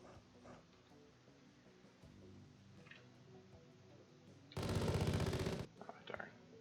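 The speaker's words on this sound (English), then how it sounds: "I should be using the chain gun for a bit" A chain gun fires in the sci-fi video game Jupiter Hell: one loud, dense, roughly one-second burst of rapid automatic fire over a quiet, low game ambience, followed by a few fainter impact sounds.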